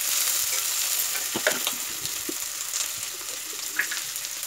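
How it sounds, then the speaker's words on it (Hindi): Onion and bitter gourd filling fries lightly in a pan, a soft steady sizzle broken by scattered scrapes and stirring clicks, close and moderately quiet with no talking. "हल्का सा हम इसको भून लेंगे"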